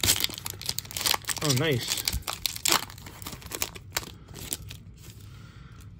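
A stubborn sticker peels off a trading card pack in crinkly, tearing strips, close and fairly loud, with a brief spoken remark partway through and quieter rustling toward the end.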